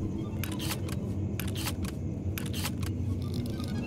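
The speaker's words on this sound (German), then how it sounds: "So, ich lade mal kurz nach." Quick mechanical clicks and clacks in short bursts as a gun is reloaded in the horror video game Poop Killer 5, over a low steady background hum.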